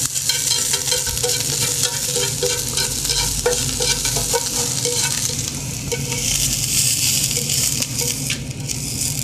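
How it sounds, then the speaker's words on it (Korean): Shiitake mushrooms and egg white garnish stir-fried in a pan for Korean gujeolpan, a loud continuous sizzle with constant stirring scrapes throughout, close up and with no talking. "표고버섯과 공담백은 약간 익을 정도로 조금 더 볶습니다"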